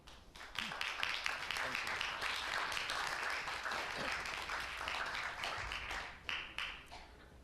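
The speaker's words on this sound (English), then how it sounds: "our city deserves a big round of applause" Steady applause at a city council meeting, dense clapping from a room full of people that holds for several seconds before thinning out near the end.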